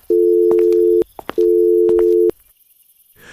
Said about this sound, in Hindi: अचानक उसके मोबाइल की घंटी बजी